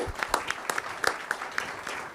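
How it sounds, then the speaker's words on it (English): Sparse, light clapping from a small audience at a village board meeting honoring a fire department member's five-year anniversary, individual claps spaced irregularly and fairly quiet. "Then we'll give him a round of applause."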